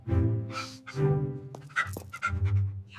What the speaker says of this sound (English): You brought your dog.